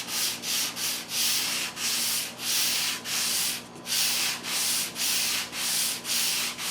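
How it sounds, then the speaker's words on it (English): Ultrafine 220 grit sandpaper rubs across a new 12-string guitar top in steady back-and-forth strokes, about ten even, close, raspy passes with a short pause midway. "I'm giving the top surface the first sanding with ultrafine 220 grit paper"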